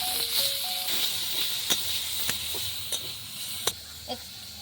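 Chicken pieces dropped into hot mustard oil hiss and sizzle steadily, broken by a few sharp clicks and utensil taps, close and continuous without talk.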